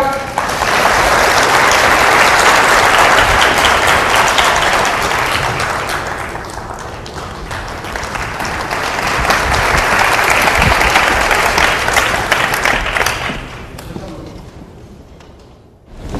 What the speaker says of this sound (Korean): 대표님 큰 박수로 맞아주시죠